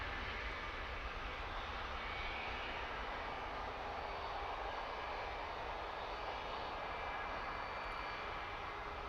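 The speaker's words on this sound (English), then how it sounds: "Ryanair, as is normally the case, using every inch of the available runway." A Ryanair airliner's engines roar steadily from the runway at London Luton Airport, a continuous broadband rumble heard from a distance, moderately faint and unbroken, with no voices.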